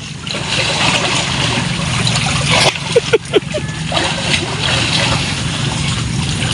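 Sea water at a provincial beach splashes as people wade in to swim, a few short splashes in the middle over a steady wash of water and outdoor noise, with faint voices in the background.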